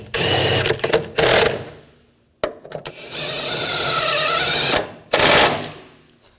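Bursts of a power driver or impact tool tighten bolts on a 2007-2013 BMW X5 3.0L inline-six intake manifold, with short rattling runs separated by brief pauses, close and loud.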